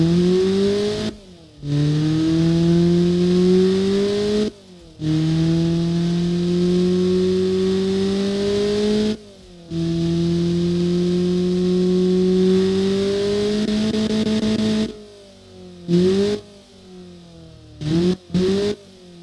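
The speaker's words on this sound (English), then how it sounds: "the engine now sounds really good, and it really performs much better than before" Honda D16V1 engine fitted with individual throttle bodies, revving repeatedly: long sustained pulls with rising pitch broken by brief drops, then a burst of short quick blips near the end, loud and close with no talking.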